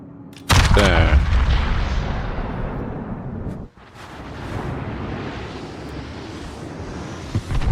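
Heavy naval gun salvo from a warship in World of Warships, a loud booming blast followed by a long rumbling roar that fades, then renewed low rumble and a faint later thump, with no voices.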